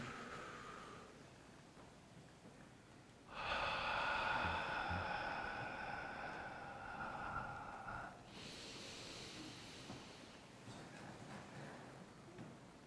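Slow guided breathing during a meditation session, with two long, airy exhales or inhales of several seconds each separated by quiet room hiss, soft and close without speech.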